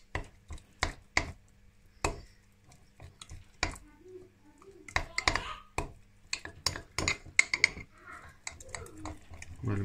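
Sourdough starter of flour and water being stirred by hand in a container, a run of close, sharp, irregular scraping and tapping strokes with brief pauses between them, no voices.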